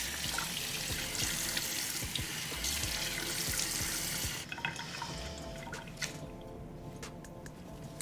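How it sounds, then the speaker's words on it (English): Tap water running into a bathroom sink while skincare product is rinsed off the face, a steady faucet stream with splashing and drips that changes tone partway through, no voices. "I'm gonna wash this off and move on to my next step"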